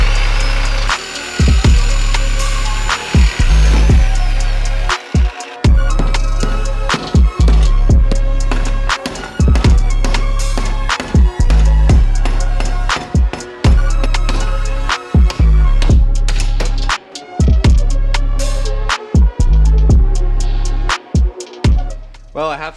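A cheap reciprocating saw cuts out control arm bushings on a BMW E46, a loud buzzing blade stroke in repeated long bursts broken by brief stops, close to the microphone.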